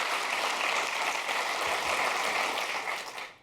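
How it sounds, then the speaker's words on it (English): Scattered audience applause at a presentation, a dense patter of claps that holds steady for a few seconds and then fades off at the end. "Thank you very much for that smattering of applause."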